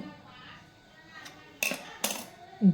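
A knife cutting sour-sweet methi kadubu dough into triangle shapes, heard as two sharp clacks of the blade against the board or plate over a quiet room, followed by a brief thud.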